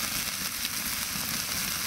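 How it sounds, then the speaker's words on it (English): Onions and spices fry in a hot pan with steady, continuous sizzling, a dense crackly hiss with no pauses and no talking. "I'm just frying this off, ready to go inside the mushrooms"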